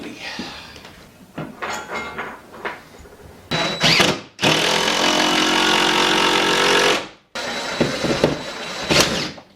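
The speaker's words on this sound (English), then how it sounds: "now we're just going to lag bolt the brackets to the wall" Brackets are lag bolted into a wall with a power driver during a cedar mantle install, giving short bursts, then a long loud whirring run and another burst, with brief chatter between the runs.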